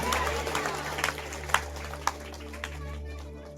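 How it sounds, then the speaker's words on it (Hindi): Church congregation at a Maithili sermon clapping for the Lord, a loose scatter of claps with a few sharp louder hits, fading toward the end, while a voice murmurs underneath. "जोर से ताली बजा प्रभु के लिए, कुर्बानी के लिए।"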